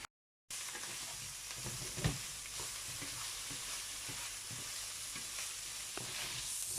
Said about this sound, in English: I'll be frying batch by batch.